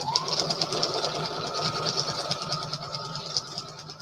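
Sewing machine running a wide stitch through a journal cover, a steady close whirring hum with a fast rhythmic clatter that continues without a break.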